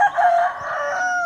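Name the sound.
rooster crowing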